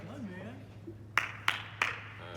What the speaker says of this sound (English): We hear applause in the background.